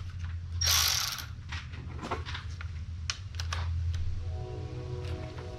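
Hand ratchet loosening a 10 millimeter bolt on a 2008 Dodge Avenger while fixing the transmission gear select lever: repeated close clicking bursts with metallic rattles and a brief scrape, low hum underneath, no talk.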